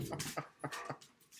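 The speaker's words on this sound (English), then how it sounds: "here's the Doberman Pinscher coming to say hi." A Doberman Pinscher indoors gives a few short, soft whimpering cries in quick succession, close to the microphone and with no one speaking.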